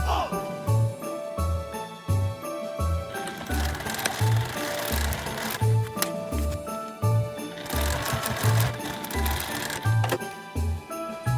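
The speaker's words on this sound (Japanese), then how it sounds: "縫い代を折り込んだら端っこの方を縫ってな" A sewing machine stitches along the edge of a cooling pouch, a steady rapid mechanical whir with regular thumping beats, close and continuous.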